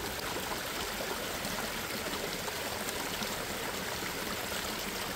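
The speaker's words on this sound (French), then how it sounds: "je viens remplir la bouteille de 2 litres en la filtrant" Cold river water filtered into a 2-litre bottle, a continuous dense trickling and rushing flow, steady and close, with no voices.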